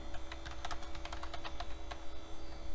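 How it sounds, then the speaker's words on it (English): Rapid clicking keystrokes on a computer keyboard attached to a vintage Baby AT tower PC, close and steady, over a constant electrical mains hum. "I'm just typing SDC out of muscle memory"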